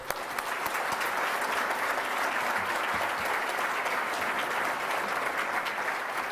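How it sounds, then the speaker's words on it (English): Sustained applause from an audience at a World Trade Week kickoff breakfast, a dense, even wash of clapping that holds steady and loud throughout without a break. "So a huge round of applause for this team that we have."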